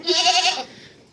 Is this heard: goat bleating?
yes